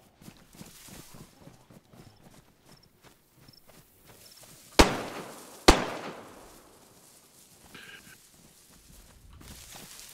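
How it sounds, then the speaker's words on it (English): Two sharp, loud gunshots ring out a second apart in DayZ on the Livonia map, standing out against quieter footsteps and faint background ambience. "Someone's shooting at him."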